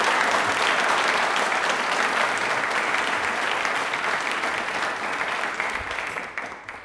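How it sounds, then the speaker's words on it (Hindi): A studio audience claps loudly and steadily for about seven seconds at a Dr. Bhimrao Ambedkar Jayanti quiz programme, dense applause that tapers slightly toward the end. "तो तालियां अपने लिए एक बार जोरदार।"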